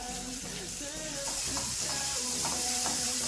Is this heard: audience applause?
no